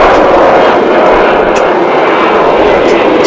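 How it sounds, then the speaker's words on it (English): An Airbus A380 airliner on the Finnair flight from Helsinki lands at Dallas Fort Worth International Airport with a loud, close, sustained jet roar that stays steady for the whole moment. "It's an Airbus A380, completing its transatlantic journey."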